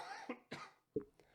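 A person with a cold gives a few short, muffled coughs spaced about half a second apart, quiet and close, with no speech.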